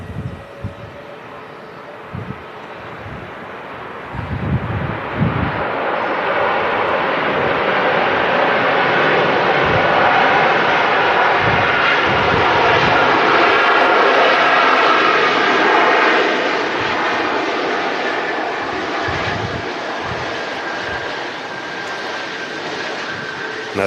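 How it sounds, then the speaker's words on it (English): An Air Transat A330-200 airliner lands at Manchester Airport, its engine roar swelling into a loud, sustained rumble with reverse thrust, heard from a distance alongside wind buffeting and handling bumps. "the Air Transat A330-200 touches down at Manchester"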